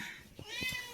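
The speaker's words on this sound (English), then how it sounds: "my cat is deciding to meow at me" A house cat gives a couple of short meows, close by and fairly soft, over a low room background in an indoor podcast setting.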